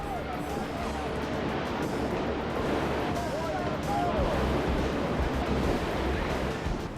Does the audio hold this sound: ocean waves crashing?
yes